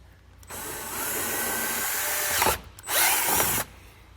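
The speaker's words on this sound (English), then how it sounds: "I'm going to drill a hole where I marked for my bracket" A power drill bores a hole for an LED light bar bracket on a 2019 Chevrolet, running steadily for about two seconds, pausing briefly, then biting in again for a shorter burst, loud and close with no talking.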